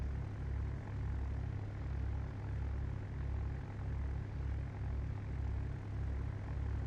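An aircraft in Microsoft Flight Simulator X taxiing in Puerto Rico, with a continuous low engine drone and a slow, regular throbbing pulse that holds steady throughout, no talking.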